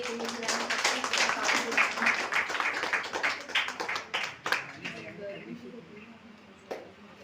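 Audience at a magazine launch event claps in a dense burst of applause that fades after about five seconds, leaving quiet room sound and one last clap.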